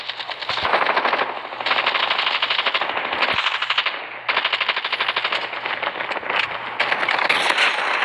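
Sniper rifle fire in a video game, heard as loud, near, rapid bursts of gunfire that run almost continuously with brief gaps, alone with no talk.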